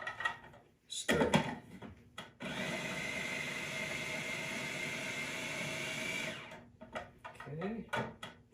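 A food processor blends a thick bean burger mixture of beans, pepper and cornstarch in a roughly four-second whirring burst. Short clatters and handling noises come before and after it, and a voice talks nearby.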